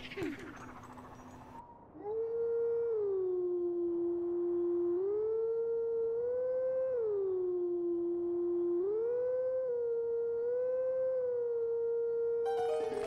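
Wolf howling at the Howling Stone in The Legend of Zelda: Twilight Princess HD: a long, clear, tonal howl rising and falling in pitch over several phrases, loud and alone after brief game noise.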